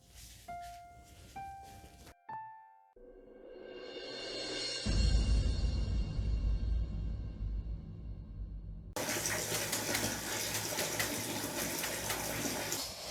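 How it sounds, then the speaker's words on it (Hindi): Tap water running while washing clothes: a few electronic beeps first, then water starting faintly, swelling into a strong, steady gush that grows louder and fuller toward the end, with no talking. "जाओ जल्दी, फटाफट से कपड़े धो लो।"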